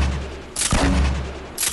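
Gunfire in Fortnite, a couple of loud close blasts a second apart, each with a sharp crack and rumbling low tail.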